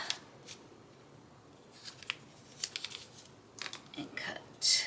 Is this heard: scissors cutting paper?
yes